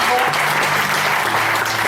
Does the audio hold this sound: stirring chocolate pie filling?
no